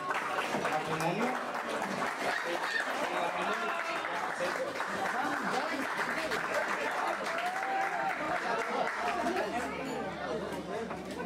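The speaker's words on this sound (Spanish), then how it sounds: "Un fuerte aplauso, por favor, para el futuro" Wedding guests clap and cheer together in a lively room, with steady applause mixed with chatter and voices throughout.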